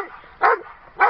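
Two short barks from a dog in the background, evenly spaced about half a second apart, moderately loud against a quiet backdrop.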